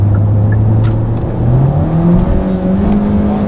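A Hyundai DN8 Sonata LPi car engine revs hard at high rpm, a loud, strained drone climbing steadily in pitch with no talking.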